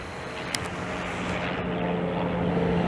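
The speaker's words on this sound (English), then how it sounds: "Crop duster, as I call it." A propeller crop duster airplane flies overhead along a street in Montreal East, its engine a steady, moderately distant drone that swells slightly over a few seconds with no talking.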